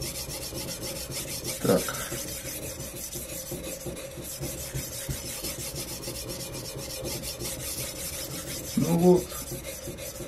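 A budget kitchen knife drawn across a sharpening whetstone, giving steady close rasping strokes with a couple of louder scrapes, while someone says a few words.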